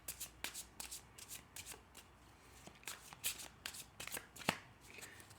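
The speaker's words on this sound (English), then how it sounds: "And I'll cut the deck." A deck of tarot cards being shuffled by hand at a reading table, a quiet, close run of repeated riffling flutters and soft slaps in uneven bursts.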